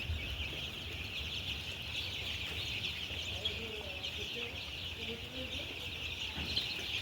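Ten-day-old chicks cheeping in a dense, continuous chorus, steady and moderately faint, with a few lower sounds mixed in underneath.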